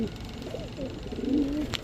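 A pair of Iranian Huma pigeons coo in low, rolling calls that swell toward the end, close by, with someone talking over them.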